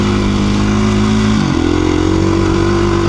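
KTM 350 EXC-F dirt bike engine running loud and close, holding a steady buzzing rev with a brief dip and recovery midway.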